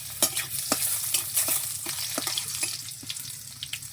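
Whole cumin, garlic, dried chili and bay leaf fry in hot oil, making a close, continuous sizzle broken by sharp spattering pops and stirring scrapes. No voices are heard.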